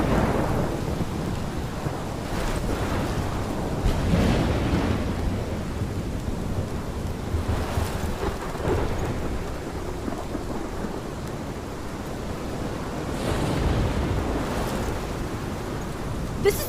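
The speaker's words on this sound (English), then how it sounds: "This is my storm!" Thunderstorm in the video game Life is Strange: steady heavy rain with repeated deep rolling thunder rumbles swelling and fading over a continuous roar of downpour.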